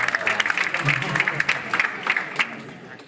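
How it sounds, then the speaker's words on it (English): An audience applauds for Olivia at a prize-giving event, with moderate clapping that holds steady for about three seconds while a voice speaks over it. "Round of applause for Olivia."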